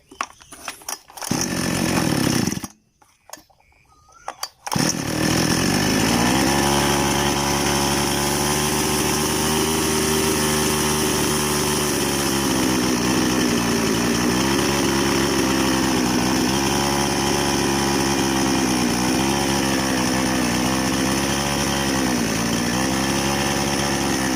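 A small chainsaw engine that stalls when throttled back runs loud and steady after a few seconds of sputtering starts, its buzzing drone holding close and continuous throughout.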